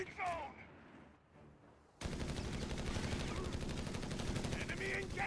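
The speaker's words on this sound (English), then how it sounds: "he literally has a line of heavy machine guns going across the entire" Heavy machine gun fire from a line of emplacements in the World War II strategy game Company of Heroes 3, a dense continuous burst of rapid shots that starts abruptly and holds loud to the end after a quieter stretch with faint talk.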